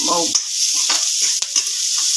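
Semolina for upma roasting in a pan with a spoon scraping and stirring, repeated scrapes over a soft steady sizzle, close by, a short voice at the very start.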